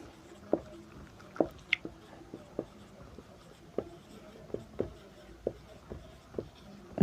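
A pen writes a divisibility-by-11 maths rule on paper in a quiet room, with close, scattered tapping and scratching strokes at an uneven pace and no speech.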